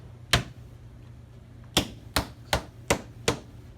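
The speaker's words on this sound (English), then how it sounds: "You're going to smack it down and flip it." A slab of clay smacked down onto an MDF board, six sharp slapping impacts: one alone, then five in a quick even rhythm, close and clear over a quiet background.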